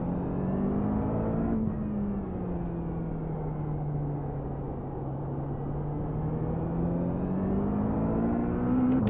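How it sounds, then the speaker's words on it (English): A faster race car in a racing video game closes in with a steady engine drone whose pitch dips and then climbs again over several seconds, continuous and fairly loud with no voices. "Faster car coming up quick."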